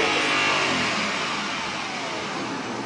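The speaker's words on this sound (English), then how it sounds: "Listen to that engine." A Porsche Panamera engine revs hard and loud up close, its high roar holding steady and then easing off slightly.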